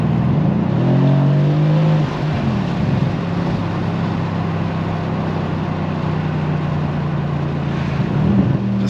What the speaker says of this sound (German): Klingt auch ziemlich cool, wenn man hier die Gänge mal runter macht.